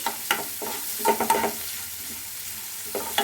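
Chopped onions frying in a pan for tomato gojju, with steady sizzling broken by several sharp scraping stirs of a spatula, close and fairly loud, no voices.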